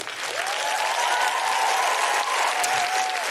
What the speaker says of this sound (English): can I have a big, big round of applause for Qiane?